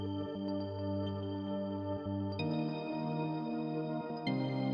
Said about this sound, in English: It's a sound called Bouncy Bells.